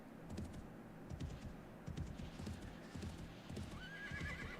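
A horse gallops in a Wild West mod of the video game 7 Days To Die, fast rhythmic hoofbeats repeating steadily, with a whinny near the end; no talk.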